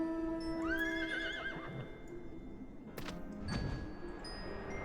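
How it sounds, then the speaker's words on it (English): A horse mount in the video game Final Fantasy XIV gives a clear, rising whinny that wavers and fades, followed by a couple of hoof clip-clops and a faint jingle, heard alone without talk. "Fucking Levin horse"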